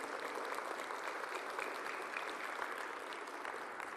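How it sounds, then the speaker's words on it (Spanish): Worshippers in a church give sustained applause during an evangelical sermon, a continuous, even wash of many hands clapping with no voices over it. "denle ese aplauso a Cristo"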